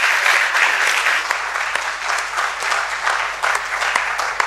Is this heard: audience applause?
yes